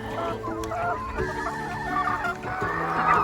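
Chickens cluck and squawk continuously at close range while being fed fried chicken, a busy overlapping flock chatter with occasional louder calls and no talk.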